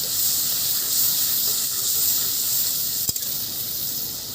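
Water added to a spice paste frying in a pan for chilli chicken, giving a steady, even hiss and sizzle throughout, with one brief tap near the end.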